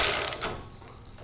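Wrench tightening the spring plate bolts on a VW swing axle, a short burst of ratcheting clicks followed by a quieter pause and a final sharp metallic tick, close and alone.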